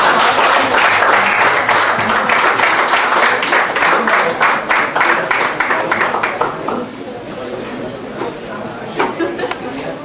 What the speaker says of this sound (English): So let's give him a warm applause.